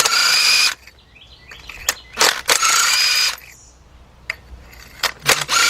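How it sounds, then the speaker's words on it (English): A cordless impact wrench on a 3/8 drive extension loosens a spark plug in a Honda engine bay, several loud rattling hammering bursts separated by quiet pauses. "And I got my cordless impact."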